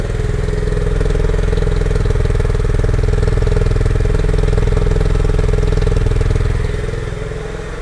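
Honda CB350C motorcycle exhaust at idle, a loud, close, steady low thumping rumble that runs evenly throughout and eases slightly at the end.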